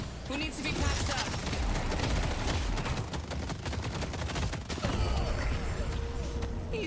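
An enemy gun fires in Deadlock as rapid bursts of automatic fire and a busy clatter of game combat, loud and dense throughout, with only faint hints of voices.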